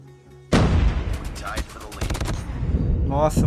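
Rapid bursts of M12 automatic gunfire in the mobile shooter Call of Duty: Mobile during a Hardpoint match, loud and close, with clustered volleys and a final flurry of shots.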